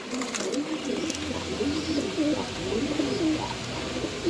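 Big pigeons kept in pairs at a farm coo in soft, repeated rolling phrases under a steady background hum, with several birds calling close by.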